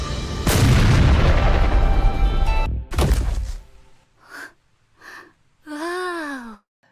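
A loud burst of rushing roar from an animated fireball magic explosion, followed by a second sharp blast, then quiet, with a few short vocal sounds and a rising-falling tone at the end.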